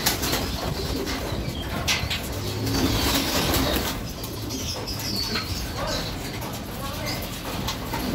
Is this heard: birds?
yes